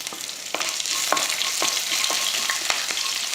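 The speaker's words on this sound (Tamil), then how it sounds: "பூண்டு போட்டு ரொம்ப நேரம் கூட வதக்க தேவையில்லை" Two garlic cloves sauté with curry leaves and chana dal in an oily pan for breakfast. A steady, close sizzle is broken by regular taps and scrapes of a spatula stirring every half second or so.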